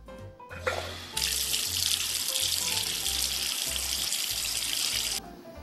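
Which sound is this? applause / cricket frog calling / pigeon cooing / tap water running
tap water running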